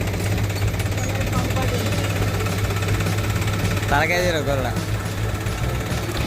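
Old maize threshing machine driven by a tractor engine, a steady low mechanical drone and rhythmic rattle running throughout, with a voice talking over it in the middle.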